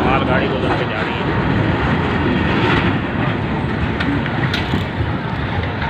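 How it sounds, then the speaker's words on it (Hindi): Freight train rolling over a railway line, a loud continuous broadband rumble and rattle held steady throughout, close by and dominating the scene. "रेलवे लाइन क्रॉस करनी है, लेकिन इसके ऊपर से मालगाड़ी गुजर के जा रही है।"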